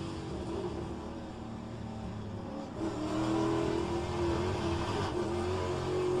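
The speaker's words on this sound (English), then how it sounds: "this car is screaming quite a lot" A Pontiac race car at Road Atlanta screams at high revs, heard as a loud, steady engine drone from inside the car that climbs in pitch and intensity partway through.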